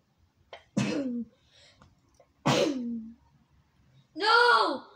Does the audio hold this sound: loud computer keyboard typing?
no